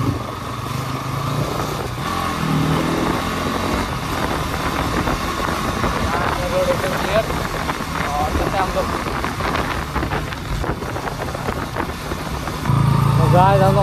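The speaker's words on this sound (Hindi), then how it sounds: "गाइस बहुत ही ज़्यादा ट्रैफिक है" Dense street traffic ridden through on a motorbike, with steady engine rumble, wind buffeting and a broad wash of road noise, a louder engine surge near the end and voices talking over it.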